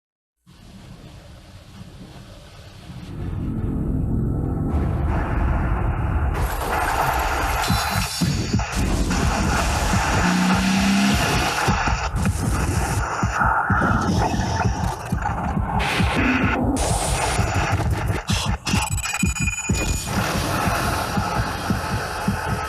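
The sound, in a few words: BMW Z4 Roadster car engine in a played advert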